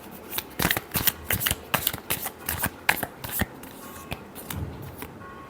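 Tarot cards shuffled by hand in a quick run of crisp riffling flicks and slaps, close and fairly loud, with short pauses between bursts and no talking.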